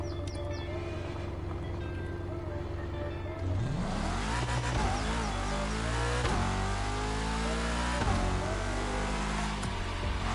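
An Audi R8 LMS GT2 race car in The Crew Motorfest idles with a steady low drone, then revs hard into a loud, close engine roar whose pitch climbs and drops through repeated upshifts, with no talking.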